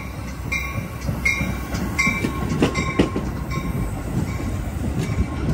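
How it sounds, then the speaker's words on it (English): Metra commuter train pulling into LaGrange Road Station in LaGrange, Illinois, heading toward Chicago: a loud, close, steady rumble with squealing wheels and repeated clacks over the rails, with no talking. "train 1276 arriving from Aurora"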